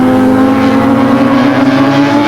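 Racing motorcycles, including a Honda V4, roar past in a loud, sustained engine howl at a 1984 Swan Series race, close and continuous with no voices.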